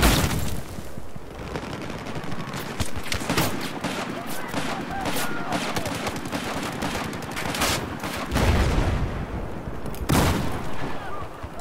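Rapid gunfire bursts and explosions from a Battlefield 4 Obliteration match on the Operation Locker map, crackling steadily throughout, with sharper loud blasts near the end.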